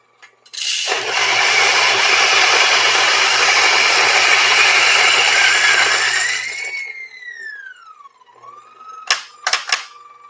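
A coffee grinder freshly grinding whole beans, set fine for an OXO Rapid Brew coffee maker, runs loud and steady for about six seconds with a low motor hum, then winds down, followed by a few short clicks.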